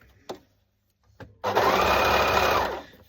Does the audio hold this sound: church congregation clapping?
no